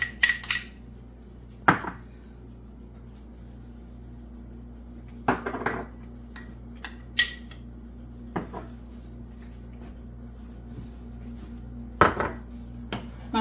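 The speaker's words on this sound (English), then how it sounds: "So that is what I have to dump in my 2 pots." Sugar and spices tipped into two cooking pots while making apple butter and apple pie filling, heard as a few sharp metallic clinks and knocks of pots and utensils spaced across a steady low kitchen hum.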